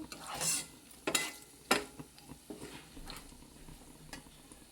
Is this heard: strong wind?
no